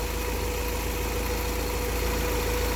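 A car engine idles steadily at 830 RPM, a loud close even rumble with a constant hum and no talking.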